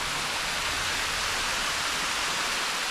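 Water tumbling down Bamanbudo waterfall in Goa, a steady close hiss and rush of falling water with no break or voices.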